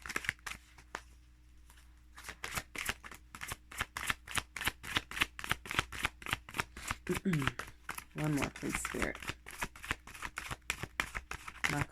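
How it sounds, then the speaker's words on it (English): Tarot cards being shuffled by hand, a rapid run of crisp riffling bursts close up, repeating in a steady rhythm, with a soft voice speaking between the shuffles. "My cards get everywhere whenever I'm shuffling. They just jump and pop."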